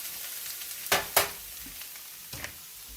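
Polk salad greens coated in grease cooking in a pan, giving a soft, steady sizzle with a few sharper crackling bursts and light stirring scrapes, fairly close and without talk.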